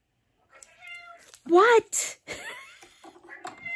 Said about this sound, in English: Guys, this cat.